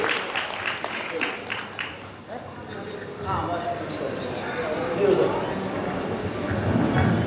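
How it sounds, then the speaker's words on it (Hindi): An audience claps loudly for an elderly man at a gathering, the dense patter of many hands swelling and growing stronger toward the end, with a voice talking over the start. "एक बार जोरदार तालियां बजाएं अंकल जी को।"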